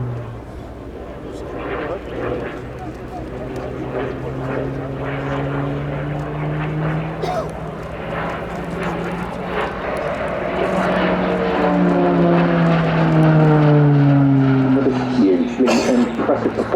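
A Slovenian Armed Forces Pilatus PC-9M Hudournik turboprop flies a display at RIAT 2025, a loud steady propeller drone with rising and falling pitch sweeps as it passes, and a voice talks over it.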